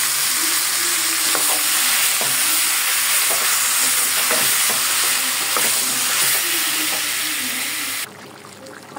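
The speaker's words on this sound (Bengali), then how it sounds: "আমি এখন মশলা মাখানো মাংসটা দিয়ে দিলাম" Spice-marinated beef hits hot oil with already-cooked onions, giving a loud, steady sizzle broken by regular scraping stir strokes, then cutting off abruptly near the end.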